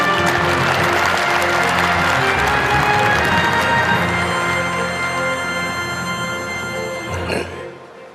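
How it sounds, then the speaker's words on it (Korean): Applause and some cheering from a large audience at an advisory council assembly welcoming a speaker, a dense crowd sound with music-like tones running under it, fading slightly toward the end. "뜨거운 박수로 맞이해 주시기 바랍니다"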